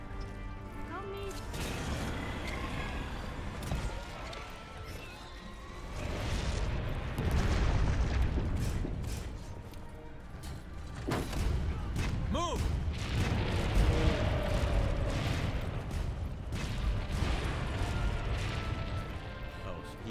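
Repeated booming cannon blasts in the video game Monster Hunter: World, mixed with clattering effects and people talking over the action.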